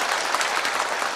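Warm audience applause at a National Assembly policy debate welcoming a lawmaker, steady dense clapping from a roomful of people heard close and continuous.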